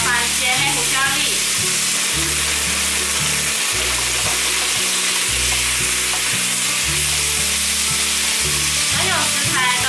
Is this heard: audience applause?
no